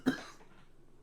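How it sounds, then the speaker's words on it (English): A single sharp cough near the mic, a quick burst that fades into quiet room tone. "I was coughing there"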